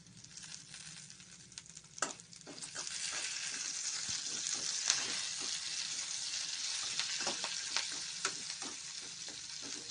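Curry leaves sizzling and frying in hot oil for ginger chutney, a steady crackling hiss with sharp pops and occasional stirring, close and continuous.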